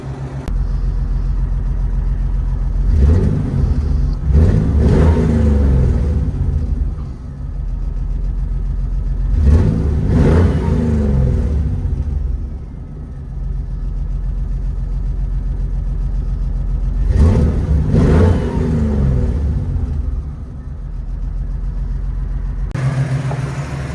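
From inside a custom rock crawler with open headers, a loud, deep engine rumbles steadily, swelling in several repeated revs and surges, with no talking.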